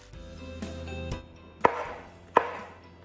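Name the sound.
chopping frozen baby spinach with a knife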